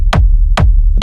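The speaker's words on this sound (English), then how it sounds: "The nice boomy kick" Three deep, boomy kick drum hits from a Novation Circuit groovebox, each a heavy low thump with a short decaying tail, evenly spaced and loud with no other sounds.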